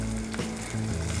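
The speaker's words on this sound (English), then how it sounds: "here I'm just softening the onions and also drawing a bit of flavor out of them into the pan" Onions softening in a pan for pumpkin soup, giving a steady close sizzle with a low background hum throughout a short stretch.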